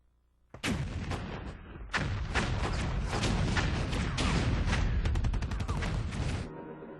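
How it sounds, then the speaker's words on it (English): Heavy booming artillery fire, rolling and continuous, with dense overlapping blasts that swell and persist for several seconds before tapering off. "The sounds of distant artillery fire raised hopes among the prisoners that freedom was near."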